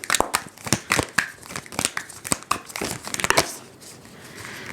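A tarot card deck being shuffled: dense runs of crisp card riffles and flicks in irregular bursts, close and fairly loud, easing into a softer rustle near the end with no talk.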